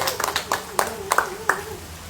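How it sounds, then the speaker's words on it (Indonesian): A few people clap in scattered, uneven bursts indoors at a poetry book discussion, sparse and fairly close, fading quickly. "Tepuk tangan dulu buat Langgam Pustaka."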